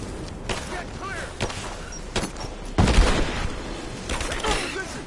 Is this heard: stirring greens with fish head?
no